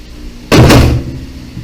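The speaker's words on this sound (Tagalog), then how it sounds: "Tatanggalin muna natin tong front panel niya para maikabit natin yung fan." The front panel of a PC case comes off with a single loud plastic clunk and short rattling snap, close-up, followed by quiet.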